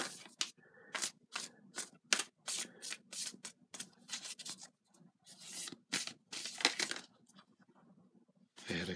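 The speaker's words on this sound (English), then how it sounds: "Card flip over here." Tarot cards being handled and flipped over on a table, a quick run of crisp papery slaps and shuffles, close and fairly quiet, with short pauses between bursts and no talking.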